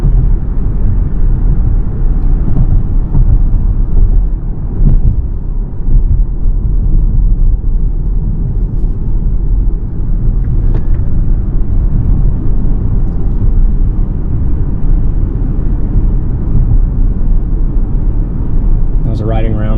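A low, even road and wind hum fills the cabin of a 2023 Hyundai Ioniq 6 SEL cruising at about 45 mph, a steady rumble with no sharp sounds standing out.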